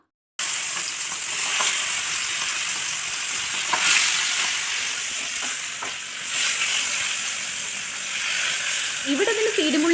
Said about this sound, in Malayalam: ഇനി നമുക്ക് മീൻ വേഗം വറുത്തെടുക്കാം കേട്ടോ